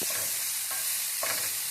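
Beans and green chillies frying and being stirred in a pan for a momo filling, with a steady hiss of sizzling and a couple of scraping stir strokes up close, no voices.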